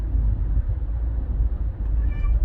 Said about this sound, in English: Really nice cat.